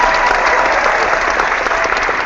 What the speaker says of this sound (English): hit the applause sound because it's not working from here